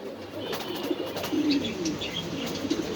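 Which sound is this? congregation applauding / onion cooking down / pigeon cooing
pigeon cooing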